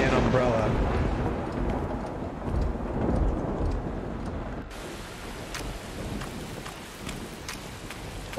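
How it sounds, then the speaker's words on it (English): Heavy rain pours steadily with deep thunder rumbling through it in the horror game No One Lives Under the Lighthouse, a dense continuous downpour that shifts to a brighter hiss partway through, with talk over it. "That is some heavy rain."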